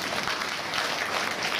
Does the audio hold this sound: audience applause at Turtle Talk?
yes